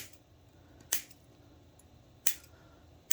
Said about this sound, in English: just snip all that extra stuff off